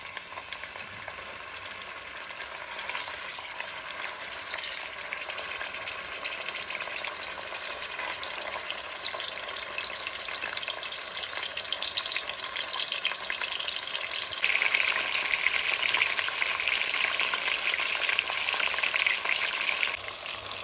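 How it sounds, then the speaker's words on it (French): Meat frying in hot oil for an yam fufu meal, a steady close sizzle and crackle running throughout that grows slightly louder and brighter partway through. "Maintenant, je vais frire ma viande."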